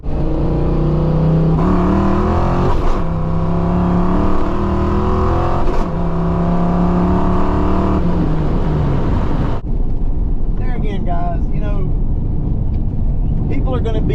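A Foxbody Mustang with a T5 manual gearbox pulls hard under loud, close engine roar, rising through revs with a quick speed shift dropping the pitch, then settling to a rough idle rumble.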